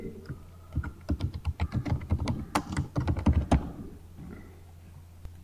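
Computer keyboard typing in a quick burst of closely spaced keystrokes during a SolidWorks turbine design session, fairly close and clear, then dropping to a quiet hum with one last isolated tap.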